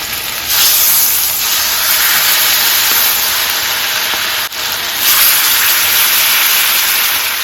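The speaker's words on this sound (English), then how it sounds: "Add the salmon. Skin side down first." Salmon fillet laid skin side down in a hot oiled pan bursts into a loud, steady, close sizzle and hiss that carries on almost unbroken, with only a brief dip partway through and no talking.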